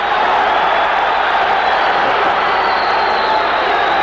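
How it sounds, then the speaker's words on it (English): Large arena crowd at a 1984 amateur boxing bout between Frank Tate and Shawn O'Sullivan, roaring and cheering in a steady, dense wash of noise throughout. "The crowd is loving this fight."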